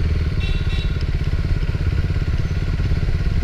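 A motorcycle rides at low speed in second gear while making a U-turn, its engine a close, continuous throbbing rumble with a rapid pulsing beat and no voices over it.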